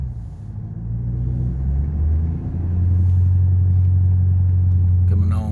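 A Shelby GT500 with a manual clutch creeps backward on light throttle, giving a low, close, steady engine rumble that firms up slightly partway through.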